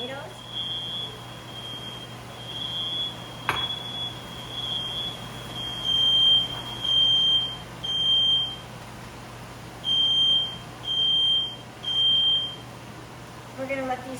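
A super-sensitive kitchen smoke alarm sounds in repeated high-pitched electronic beeps, grouped in bursts over a steady low hum, fairly faint and close, with a few short pauses between groups.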